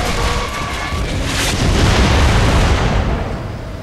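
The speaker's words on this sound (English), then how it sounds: "Watch out for that mortar." Mortar shell exploding in Gears of War 3, a loud, deep, rumbling blast that swells and rolls on for a few seconds, with no talk over it.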